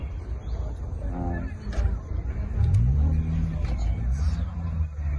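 Chevrolet Corvette C8 engine and exhaust accelerating close by, a steady low rumble that rises in pitch through the revs, with background crowd chatter underneath.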